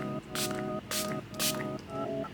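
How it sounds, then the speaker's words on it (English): Three short bursts from a spray bottle of cleaner onto a bowling ball hiss in quick succession, each a sharp pump over a steady background hum. "Just give it a spray"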